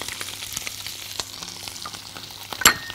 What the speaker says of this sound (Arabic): الفراخ أشوحها تشويحة، معاها الجزر